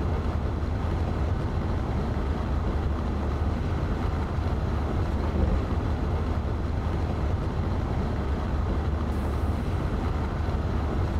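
A Railjet train rushes past at 200 km/h in Train Simulator Classic, on the line between St. Pölten and Linz, heard from outside. A steady, loud, broadband roar and rumble of wheels and air runs unbroken throughout.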